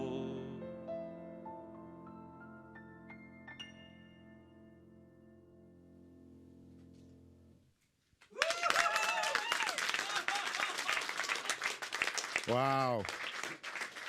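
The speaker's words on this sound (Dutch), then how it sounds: "Ze klappen wel, hè?" A live concert audience bursts into loud sustained applause and cheering right after the final held notes of the music die away, with voices exclaiming over the clapping.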